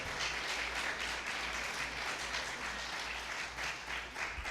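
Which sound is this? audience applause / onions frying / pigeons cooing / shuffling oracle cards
audience applause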